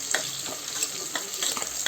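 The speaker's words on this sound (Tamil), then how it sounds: "நல்லா வணக்கி விடுங்க. சின்ன வெங்காயம் நல்லா வணங்கட்டும்" Sliced shallots sautéing in oil for a village-style mutton curry, a steady close sizzle broken by regular stirring strokes of a spoon, with no one speaking.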